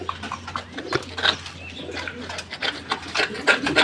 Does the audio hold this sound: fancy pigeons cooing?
yes